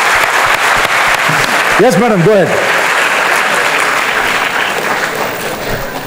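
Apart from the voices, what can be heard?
audience applause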